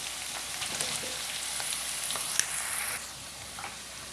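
Chicken keema with chopped potato frying in a pan, giving a steady close sizzle and crackle with a few light stirring taps, alone and without talk.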